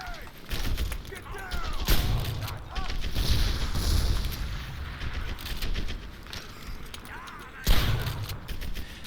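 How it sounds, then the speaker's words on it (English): Shotgun fire in the World War II shooter Medal of Honor: Airborne, with several loud, sharp blasts spread over a steady bed of battle noise and mechanical clatter. "Kick some more ass with the shotgun."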